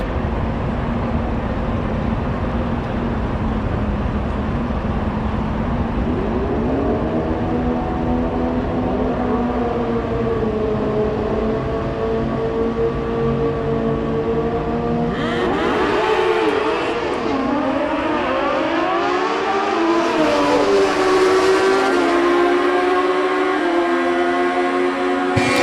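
A 2012 Kawasaki ZX14 drag bike at a Mancup drag racing event spins its tire, a long loud engine drone climbing in pitch, then a sharper surge of revving and screeching tire noise in the second half.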